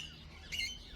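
A cockatiel, a small Australian parrot, gives a brief high chirping call near the middle of a short, quiet stretch, close and fairly soft, with no talking.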